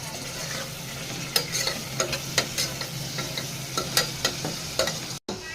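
Onions and green chilies fry in oil for a village-style country chicken curry in a pressure cooker, a steady close sizzle broken by repeated clinks and scrapes of a spoon stirring through the pan.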